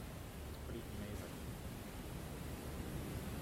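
Sea waves wash onto a tropical shore lined with coconut trees, a soft, continuous surf hiss heard faintly and evenly throughout.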